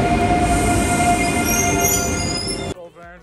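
A train pulls into Esch station in Luxembourg on a rainy day, a loud steady rumble of wheels on rails with faint high squeal, cutting off abruptly near the end.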